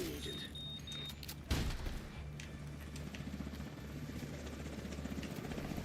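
Enemy helicopter approaching in Division 2, its rotor chop building into a rhythmic low thumping that grows louder, with a sharp burst of gunfire early on and battle noise around it.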